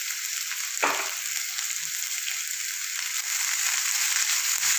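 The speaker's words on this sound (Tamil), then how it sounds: "வதக்கிட்டு எல்லாத்தையுமே ஒன்றா போட்டு வதக்கிடலாம்" Chopped onions and vegetables for a street-style onion samosa filling sizzle steadily in a hot pan, with a constant close frying hiss and a sharp stir or scrape near the start.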